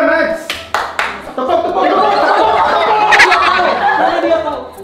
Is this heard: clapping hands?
yes